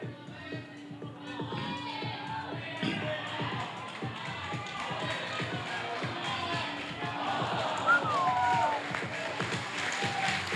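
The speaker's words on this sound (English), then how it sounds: "Fantastic noise from the crowd here today." A crowd cheers and claps at a bouldering competition, the 2021 QLD Open A Bouldering Titles, a continuous roar of applause and shouts with a whistle partway through, under a nearby commentator's voice.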